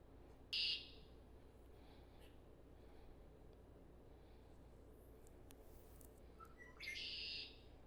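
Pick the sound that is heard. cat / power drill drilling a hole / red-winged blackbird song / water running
red-winged blackbird song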